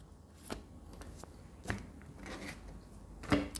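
Tarot cards shuffled and drawn by hand, with quiet papery riffles and a few sharp flicks, the last near the end, close and faint in a hushed room.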